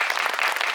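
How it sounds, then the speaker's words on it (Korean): Audience applause at a cinema talk event, a dense burst of clapping from a crowd, steady and fairly loud throughout the short moment. "큰 박수 부탁드리고"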